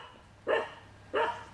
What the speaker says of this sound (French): Il se transforme en roquet, mon chien.